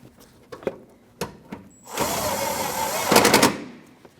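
A power tool tightens an 8mm fender bolt on a 2014-2023 Jeep Cherokee during a front bumper impact absorber replacement: a steady, loud whirring drill burst of about a second, rising into a harsher rattling impact at the end, preceded by scattered clicks and taps.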